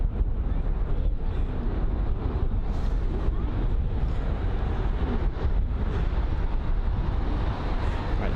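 Strong, gusty wind at London Heathrow airport buffets the microphone in a constant, loud roaring rush that keeps going without a break.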